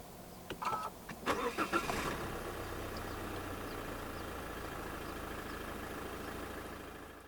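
A 2021 Mazda CX-30 with the 1.8 SkyActiv-D diesel is push-button started: a few quick starter cranks catch and settle into a steady, fairly quiet idle that carries on evenly to the end.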